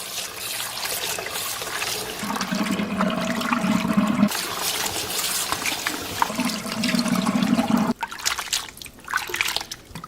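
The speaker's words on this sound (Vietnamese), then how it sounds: "Mình xả nước và rửa nhiều lần để củ cải thực sự hết mặn nhé." Tap water runs and splashes over salted radish being rinsed repeatedly in a sink, a continuous loud rushing flow with surges of heavier splashing, ending with a brief quieter trickle.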